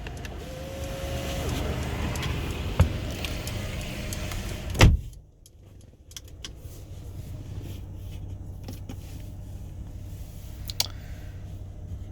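Electric windows on a 2019 Mercedes-Benz A220 4MATIC whir briefly inside the cabin, followed by a sharp thump and then a quieter interior with faint clicks.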